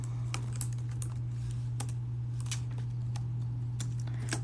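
Someone types on a computer keyboard, a run of irregular light key clicks close up over a steady low electrical hum.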